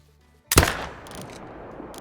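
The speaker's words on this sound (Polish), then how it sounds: "I chyba będzie dobrze wykonany strzał." A single rifle shot cracks out loud and close during a caribou hunt in the Yukon valley, following a brief quiet lead-in and trailing off into a long decaying echo across open terrain.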